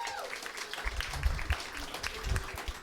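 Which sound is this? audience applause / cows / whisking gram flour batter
audience applause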